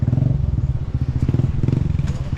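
Steady rumbling idle of a Kawasaki KLR650 motorcycle engine, close and loud, with a fast, even low throb and faint clatter throughout.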